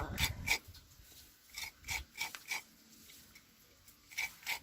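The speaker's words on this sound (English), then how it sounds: "grating the nutmeg" Nutmeg being grated for homemade chocolate makes soft, close rasping strokes that come in short bursts with quiet gaps between them.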